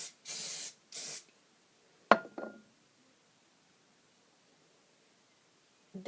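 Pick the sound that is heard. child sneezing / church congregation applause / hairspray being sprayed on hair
hairspray being sprayed on hair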